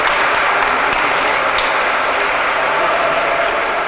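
Dense, continuous applause from a large audience, steady and loud throughout, with no clear voices above it.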